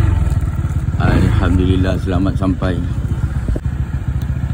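A Yamaha RXZ motorcycle idles after arriving, its engine putting out a steady low throb close by while someone speaks briefly over it.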